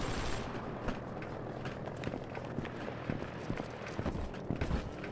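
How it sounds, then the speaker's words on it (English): Footsteps in the video game BioShock 2 Remastered, a steady run of soft, fast thuds moving through a murky ambient background, fairly close and moderately loud, with no talking. "I hear footsteps."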